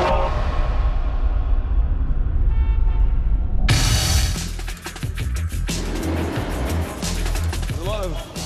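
A busy Old Cairo street full of car traffic and people, with a steady wash of engines and passing vehicles, occasional horn toots, and voices mixed into the crowd noise.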